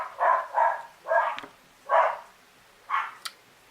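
Dogs bark indoors in five short separate bursts at a moderate distance, the last one followed by a sharp high yip.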